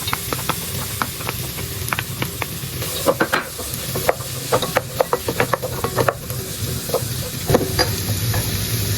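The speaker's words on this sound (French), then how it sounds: "Je vais faire revenir un petit peu l'ail et les oignons" Garlic and chopped onions sauté in a pan with a steady close sizzle and hiss, broken by repeated clicking scrapes and stirring knocks of a utensil against the pan.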